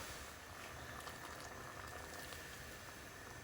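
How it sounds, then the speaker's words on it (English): Water bubbles and hisses steadily in a pot of kidney bean curry after boiling water is added, a constant close boiling sound with no talking. "So right, add some boiling water."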